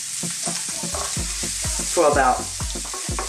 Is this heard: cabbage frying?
yes